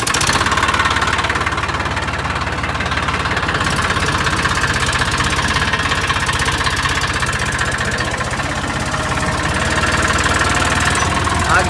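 A 40 hp farm tractor engine runs steadily at a near idle, a dense continuous rumble with a faint knocking texture that holds at constant loudness throughout.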